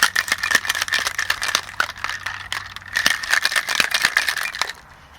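A cocktail shaker rattles hard with ice as a banana pie martini of cream and banana liqueur is shaken, a steady rapid clatter for several seconds before stopping abruptly.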